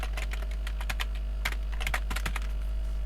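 Close keys clatter on a computer keyboard in quick irregular bursts of clicks over a steady low hum, with no talking.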